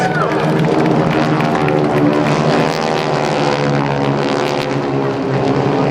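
GEICO Skytypers propeller aircraft fly past in formation at a 2009 Joint Services Open House air show, a loud, steady droning roar of several piston engines with harmonic buzz, sustained throughout with faint crowd noise beneath.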